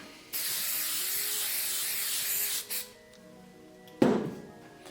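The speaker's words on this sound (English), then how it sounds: "I'm going to take Star Bond's activator and I'm going to spray the actual material." Starbond activator sprayed onto material, a loud hissing burst of about two and a half seconds, followed by quiet handling and a sharp knock near the end.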